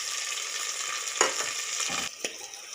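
Steady, loud sizzling hiss of chopped onions and green chillies frying in hot oil with cumin and pepper, broken by a few stirring knocks of a spoon, close up and without speech.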